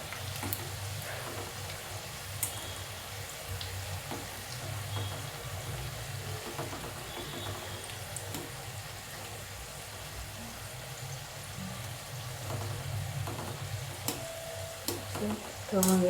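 Khari shankarpali frying in oil over a low flame and being turned over: a faint, steady low sizzle throughout with occasional light clinks of a spatula, quiet and close.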